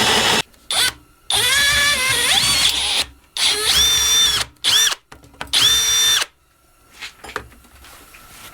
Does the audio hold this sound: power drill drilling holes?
yes